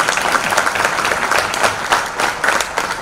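Sustained audience applause at a business association gathering of exporters, a dense wash of many hands clapping with uneven swells, fairly close and loud, with no voices standing out.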